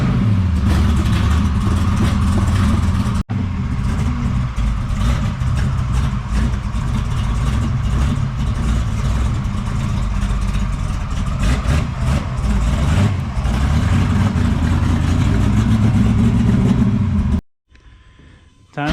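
A 1969 Camaro restomod, a pro-touring build, runs steadily through a drive, its engine a loud continuous rumble with brief dips, ending in near silence before rising again.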